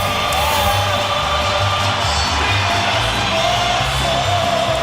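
Packed boxing arena crowd before the Pacquiao vs De La Hoya welterweight fight, with Mexican, American and Filipino flags, roaring in a steady dense wash of cheers, whoops and yells throughout.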